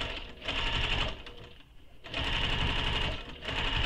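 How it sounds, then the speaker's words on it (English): Sewing machine stitching a second row on a sling pack, two close runs of rapid needle chatter with a brief pause between them. "So now there's that second row of stitching that I need to make"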